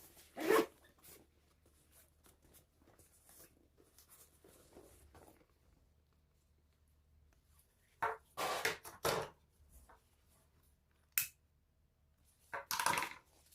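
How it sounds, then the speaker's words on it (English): A zipper on a handmade sewn bum bag is drawn closed in several short, scratchy bursts with long quiet gaps between them, close and fairly faint. "I'll close up my zipper."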